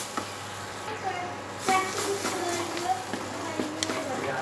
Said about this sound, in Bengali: জিনিসটা কিন্তু কন্টিনিউ নাড়তে হবে নইলে কিন্তু তলা দিয়ে ধরে যাওয়ার একটা চান্স থাকে